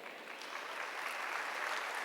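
A church congregation applauds in a steady, even wash of clapping, heard at a moderate distance and fairly soft.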